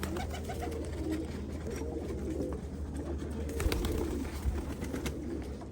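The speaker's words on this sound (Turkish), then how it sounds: "Tertemiz kuşlar." Pigeons offered for sale coo repeatedly in soft, low rolling calls, close by, over faint background noise.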